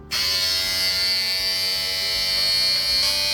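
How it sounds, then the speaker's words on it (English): A close, steady buzz from an electric trimmer runs unbroken as a man trims his sideburns, starting abruptly and holding an even whine throughout. "I'm going to see what I can do here to get a precise trim"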